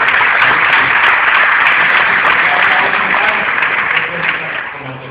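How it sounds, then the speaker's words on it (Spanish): An audience claps for a guest at a talk event, a steady wash of many hands that fades slightly toward the end. "Desen un aplauso al invitado"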